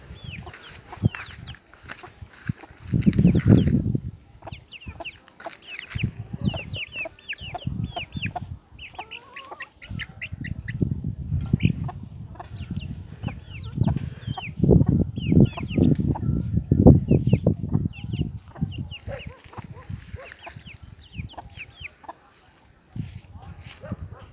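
Hens cluck and chicks peep in soft, scattered bursts, close by and continuing throughout, with people talking at moments.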